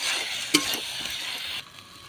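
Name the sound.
potatoes and masala frying and being stirred in a pan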